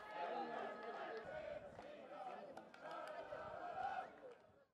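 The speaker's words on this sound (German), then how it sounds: "und die Fans, die jubeln" Football fans at an Austrian league match between Leobendorf and Wiener Viktoria cheer after a late third goal, a steady, fairly distant crowd roar with mingled voices lasting throughout.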